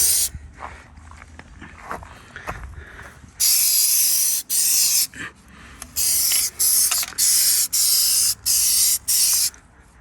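Spray paint hisses onto Toyota Tacoma running boards in a heavier coat, first as one long close blast and then as a rhythmic string of short bursts, preceded by quiet handling sounds.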